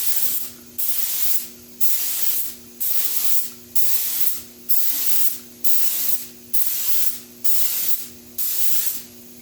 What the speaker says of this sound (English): let's get the spraying a little bit and see what we can come up with.